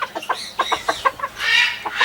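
A silver Sebright rooster clucks in a quick series of short, close calls, then lets out one longer, drawn-out squawk before a few more clucks.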